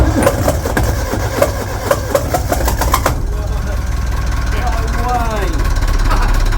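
Perkins 4236 marine diesel on a boat that had sunk, starting: rapid cranking clatter for about three seconds, then the engine catches and settles into a loud, steady low idle, with excited voices talking over it.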